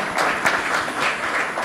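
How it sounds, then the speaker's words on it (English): Audience applause at a tax justice conference, a steady wash of clapping from a crowd filling the whole moment without any talk. "just a clap of encouragement to all that managed to make it"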